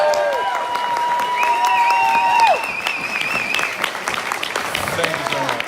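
Audience at CSICon 2018, a skeptics' conference, breaks into loud applause mixed with high whoops and cheers, the clapping carrying on at full volume throughout.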